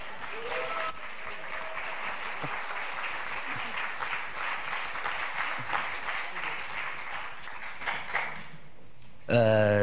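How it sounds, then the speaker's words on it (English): Sustained audience applause at a film festival press conference, many hands clapping steadily for several seconds before a voice cuts in at the end. "thank you for your applause"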